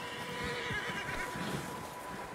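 A horse neighs in the video game Red Dead Redemption 2, a short whinny heard at a moderate level over a constant game background, with no speech.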